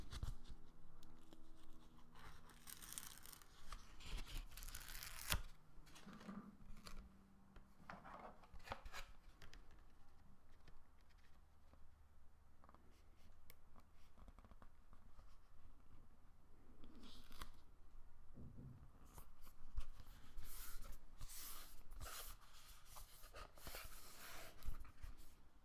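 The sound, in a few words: peeling protective film off Pocket Monopoly case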